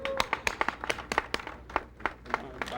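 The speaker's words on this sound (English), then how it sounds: "let's give them a big round of applause" A small group claps for a satellite launch team at a press event, giving a sparse, uneven burst of distinct individual claps, fairly close and moderately loud.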